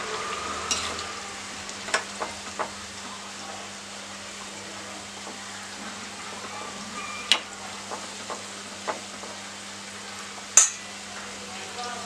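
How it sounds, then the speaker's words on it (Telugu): Wild amla, Indian gooseberries, frying in a pan for pickle, giving a continuous sizzle over a low steady hum, broken by a few sharp clinks and taps of a utensil against the pan. "ఉసిరికాయలో నీరంతా లాగే వరకు మంచిగా వేయించుకోవాలి."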